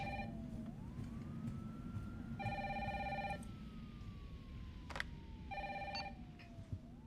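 A telephone rings in Resident Evil 3 Remake in three distinct bursts of bright trilling, each about a second long, over a steady low game rumble with a faint rising-and-falling tone.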